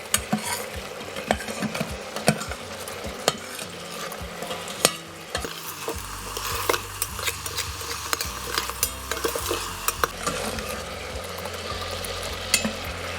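Italian meatballs fry in a frying pan on a stovetop over medium heat, giving a steady close sizzle with crackles, stirring scrapes and occasional utensil clinks throughout, with no talking.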